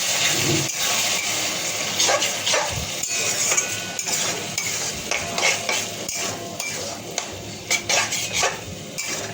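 A spoon stirs and scrapes an onion and spice paste in a metal pan, giving repeated close clinks and scrapes in an uneven rhythm with no voices.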